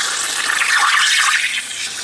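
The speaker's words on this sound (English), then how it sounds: "I'm going to pour a little bit in here and rejuvenate my mix" Liquid fuel mix pours into a 1987 Johnson 40 hp outboard motor: a close, steady gushing splash that runs for about two seconds before easing slightly at the end.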